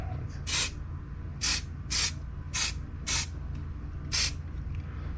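Rubber coating sprayed from an aerosol can onto a 1/25 scale model truck hauler gives six short, loud hissing bursts at a fairly even pace, close up, with quiet background hum between them.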